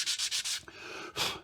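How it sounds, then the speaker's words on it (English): Hand sanding of wooden box parts: close, hissing back-and-forth strokes, four quick rubs in a rhythmic burst, a brief pause, then one more longer stroke, with no voices. "I'm gonna get all the sanding done at this point on the parts before you put the box together"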